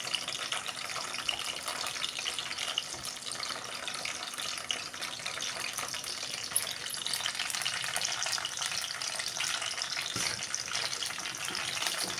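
Green chilies fry in a pan with a steady, dense sizzle that stays even and moderately quiet throughout, with faint stirring noises and no talk.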